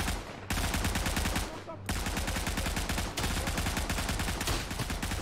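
Rapid, sustained gunfire from the World War I shooter game Isonzo, dense overlapping shots with short gaps, loud and continuous throughout.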